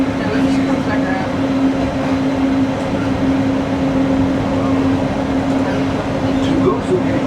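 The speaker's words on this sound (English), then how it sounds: "welcome aboard the Disneyland Monorail" Riding aboard the Disneyland Monorail at the Disneyland Resort: a steady, loud rolling rumble with a constant mid-pitched drive hum runs throughout, with indistinct voices in the background.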